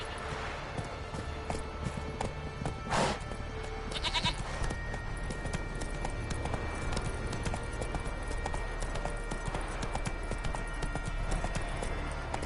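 Roach the horse clip-clopping along in The Witcher 3, a steady run of hoofbeats over a constant ambient bed with a few brief louder accents.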